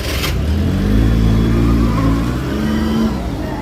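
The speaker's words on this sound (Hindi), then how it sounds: "भैया हमारे गाड़ी लगा रहे हैं पार्किंग में" A car engine hums steadily at low speed while the vehicle is parked in a parking lot, with a brief rise in pitch as it maneuvers, close and continuous.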